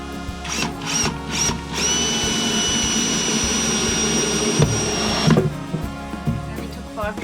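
Power drill boring into timber while building bunks in a Mitsubishi Rosa skoolie bus, a loud steady whine held for several seconds after a few short bursts, with brief talk around it.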